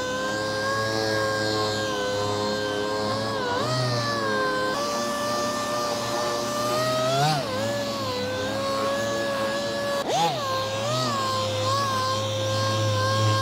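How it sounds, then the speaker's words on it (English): An orbital sander scuffs a car bumper during automotive paint scratch repair, a steady loud whine running the whole time with brief pitch dips and surges as pressure shifts, close and continuous, no talking. "I'll go ahead and get this bumper sanded."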